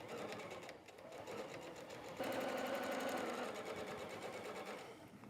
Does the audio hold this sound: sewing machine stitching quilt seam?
yes